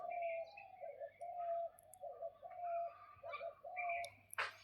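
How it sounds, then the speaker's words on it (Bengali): A bird calls from a tree in repeated soft hooting notes, about eight in a steady rhythm, fairly faint against a quiet outdoor background, with a brief rustle at the end. "দেখেন কুকু পাখি কিরকম ডাকতেছে,"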